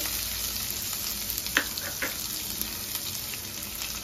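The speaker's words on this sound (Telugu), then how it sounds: "వీటిని దూరగా వేయించుకుందాం" Urad dal and chana dal frying in oil in a pan, a steady bright sizzle with a few soft stirring clicks, close and continuous with no talking.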